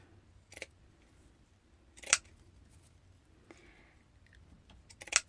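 Scissors cutting lace paper for an altered jar, three or four separate crisp snips spaced a second or more apart, close and quiet, with no talk.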